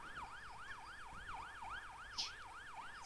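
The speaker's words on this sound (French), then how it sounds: "Ah, il teste les sirènes seulement." An ambulance siren being tested wails in a steady rising-and-falling yelp, about eight even cycles, somewhat distant and moderately loud with a brief chirp near the end.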